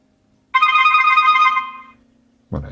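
A Cubot X19 phone plays its ringtone loud and close, a bright tonal ring lasting over a second before fading, then a brief clatter of handling noise.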